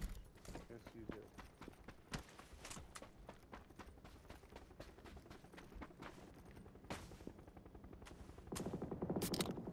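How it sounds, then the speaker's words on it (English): Rapid bursts of video game gunfire crackle through a tactical shooter match, repeated sharp shots and volleys under near-constant team chatter, with a louder stretch near the end. "That's where that guy's shooting the one guy."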